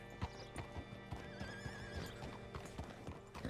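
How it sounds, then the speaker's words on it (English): In Red Dead Redemption 2, a horse clip-clops on hard ground with a quick, uneven run of close hoofbeats while it gives a wavering whinny partway through, alone against a quiet game background. "Hitch your horse up here."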